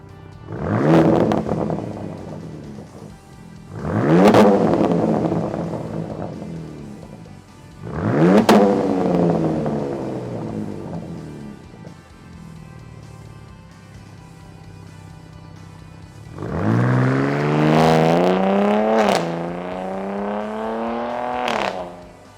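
A 2025 RAM RHO pickup's throaty engine revs hard four times through an MRT Extreme mid-pipe exhaust, each burst climbing quickly then falling away, the last held longer with a raspy, droning exhaust note.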